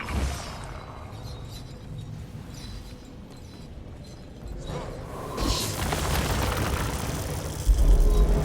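Artillery barrage explosions in the video game Guild Wars 2, heard as a rising rumble of distant booms and crashes that swells louder over the second half, ending in a heavier burst.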